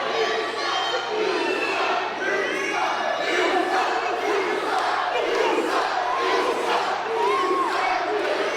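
An indie wrestling crowd jeers and shouts at a wrestler at an Imperial Wrestling Entertainment show, a loud, continuous roar of many voices with overlapping yells and taunts filling the whole stretch.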